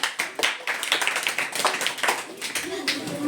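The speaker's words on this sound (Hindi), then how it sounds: "जोरदार ताली बच्चे के लिए" Classroom applause for a student answering a geography question, a dense patter of hand claps from a group that runs steadily throughout, fairly loud and close.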